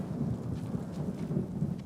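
Rumbling thunder with steady rain in a stormy scene from the video game Ghost of Tsushima, a low continuous roll at moderate, fairly quiet level, with no voices.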